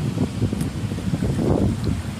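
Strong wind buffets the microphone outdoors in a grocery store parking area, producing low, uneven rumbling gusts that rise and fall, loud and close, with no talk.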